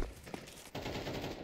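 Rapid automatic gunfire from an MP9 submachine gun in a competitive Premier-mode shooter match, a dense burst of sharp close shots with a brief dip before a sustained stretch of firing.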